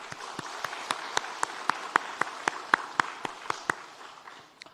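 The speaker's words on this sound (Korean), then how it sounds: "그분들께 또 감사의 마음으로 박수하겠습니다" A church congregation claps in thanks during a Sunday service, a fairly sparse round of distinct, rhythmic claps standing out over softer background clapping before fading away.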